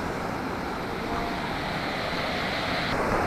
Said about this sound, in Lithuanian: Čia jaučiu gražiausias krioklys, prie kokio esu buvęs kada nors.